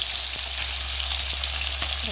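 Pieces of rui fish fry in hot oil with a steady, close hiss and sizzle, punctuated by a few faint taps, and no voices over it.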